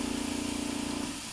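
A short, steady hiss of a Mr. Paint airbrush spraying paint in a big spray pattern, with a faint pulsing tone, cutting off abruptly near the end.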